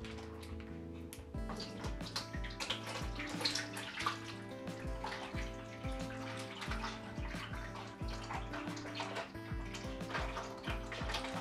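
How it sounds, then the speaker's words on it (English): Red wine poured from a bottle into a fermentation bucket during home winemaking makes a steady, continuous liquid gurgle and splash that lasts throughout, with faint background tones underneath. "Now you're good to pour it in the bucket."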